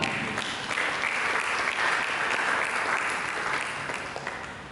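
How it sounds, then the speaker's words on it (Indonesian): A church congregation bursts into steady applause, a dense even wash of clapping that holds for several seconds and fades slightly at the end, with a faint voice underneath. "Mari kita berikan tepuk tangan."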